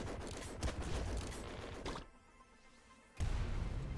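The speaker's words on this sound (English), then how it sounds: "Nuke launcher." A nuke launcher fires in the Nuclear Throne Ultra Mod video game, a dense, loud burst of crackling explosive blasts that cuts out abruptly into near silence and then roars back.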